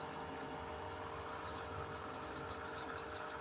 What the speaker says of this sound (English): listen to the water sound